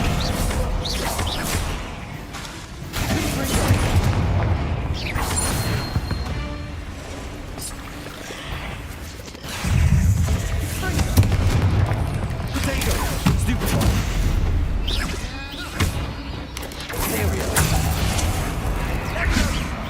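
Confringo blasting spells explode in Hogwarts Legacy: repeated booms and crashing bursts over busy game effects, with voices speaking in between.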